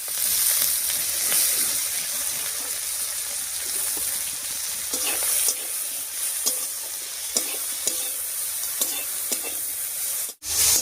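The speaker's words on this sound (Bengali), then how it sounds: "এবারে চিংড়ি মাছের মাথা আর কয়েকটা কাঁচা লঙ্কা দিয়ে দিচ্ছি।" Prawn heads fry in a pan with garlic, onion, green chillies and nigella seeds, giving a steady close sizzle broken by periodic scraping stirs of a spatula, with no voices.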